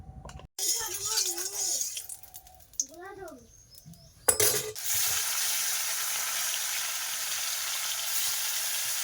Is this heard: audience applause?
no